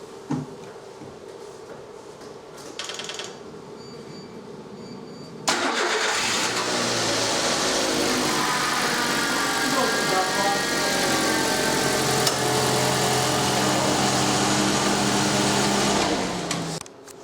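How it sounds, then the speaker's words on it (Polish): In a car service workshop, a car engine cranks briefly, then catches and runs at a loud, steady idle close by for over ten seconds before dropping off at the end. "Szymon, mógłbyś odpalić silnik?"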